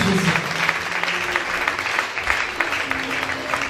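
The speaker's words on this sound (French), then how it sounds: "Put your hands together for Jesus." A church congregation applauding for Jesus during a service, dense steady clapping from a crowd with a few voices mixed in.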